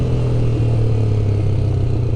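A Honda CBX Twister motorcycle fitted with a Roncar exhaust idles steadily, giving a continuous low, throbbing rumble that stays close and even throughout.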